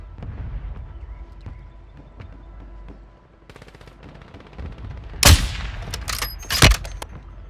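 Light machine gun fire in a video game: two sharp, loud bursts of automatic gunfire stand out above a quieter background of low rumble and faint clatter, with no talking.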